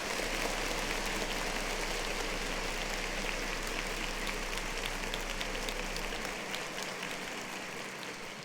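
Applause on a talk show: a steady, dense wash of clapping that holds evenly for several seconds and tapers slightly at the end.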